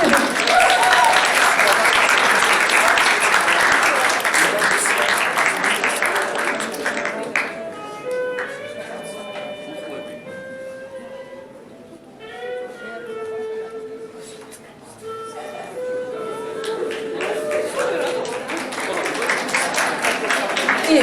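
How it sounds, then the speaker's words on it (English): Audience applause fills a closing awards ceremony for a model UN conference, loud and dense at first, then thinning while music or tones sound over it, before swelling to full clapping again near the end. "Warm applause, please."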